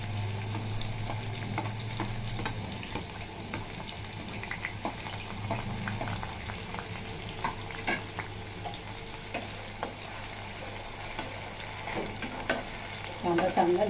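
A large onion frying in a pan for chole makes a continuous, moderate sizzle with occasional stirring scrapes, steady throughout and with no voices.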